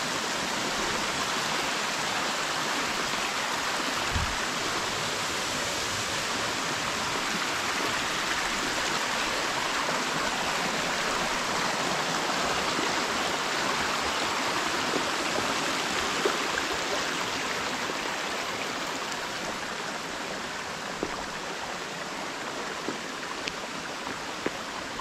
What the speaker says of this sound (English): See, water is flowing down on this rock.